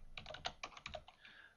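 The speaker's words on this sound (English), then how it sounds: "then I could do it like that by just typing it" Quick keystrokes on a computer keyboard while text is entered into a website editor, about a dozen close, crisp clicks in an uneven burst, alone with no voices.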